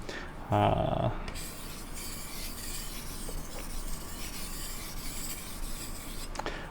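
A Chinese cleaver rubs across a wet whetstone in a continuous, soft, close grinding scrape, preceded by a brief louder knock near the start.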